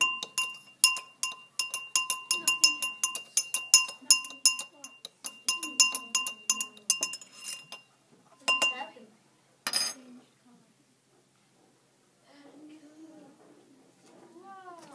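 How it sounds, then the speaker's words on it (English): A spoon stirs liquid in a glass during a simple science experiment, producing rapid bright clinks and taps for several seconds, followed by a few scattered knocks and brief speech. "Stir with a spoon."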